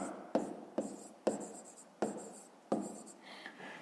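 A pen writes on paper close up in five distinct bursts of scratchy strokes, each starting sharply and fading, with soft, faint rustling in between.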